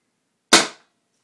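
A Flasc TM-15 paintball marker fires one shot, heard as a single sharp, close crack that dies away quickly into silence.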